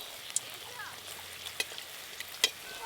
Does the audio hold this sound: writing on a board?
no